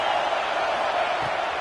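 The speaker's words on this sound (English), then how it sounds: "this crowd is turning it up a notch" Stadium crowd in a college football video game roaring steadily, a dense continuous wash of cheering with no clear breaks, fairly loud and close throughout.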